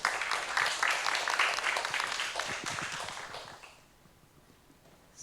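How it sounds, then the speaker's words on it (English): Workshop attendees at a gender-equality session give a warm round of clapping that runs strong for about three seconds, thins out and fades to near silence, with a brief sound at the very end. "Applause for Dorothy"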